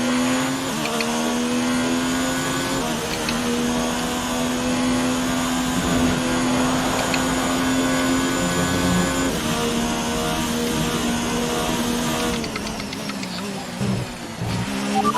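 Race car engines drone steadily in a racing video game, one loud near car holding a high sustained whine that shifts pitch with gear changes and revs, under a constant layer of track and tire noise throughout.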